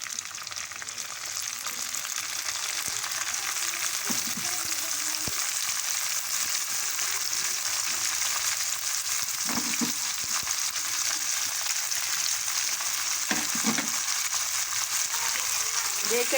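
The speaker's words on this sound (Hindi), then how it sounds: "मेरी प्याज अब ब्राउन हो गई है और साथ ही हमारे अब इसमें जाएंगे जो वो हैं हमारे टमाटर।" Tomatoes frying with browned onions in a pan for a potato curry make a continuous, dense sizzle, broken now and then by spatula stirs and scrapes, with no talk over it.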